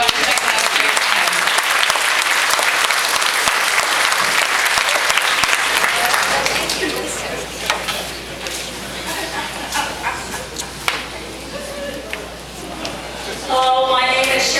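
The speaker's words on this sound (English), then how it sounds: "give yourselves a round of applause for showing up" Festival crowd at the UFO Festival in Warren, Minnesota, claps loudly and steadily for about six seconds, then the applause thins to scattered claps, whoops and voices before a brief burst of noise returns at the end.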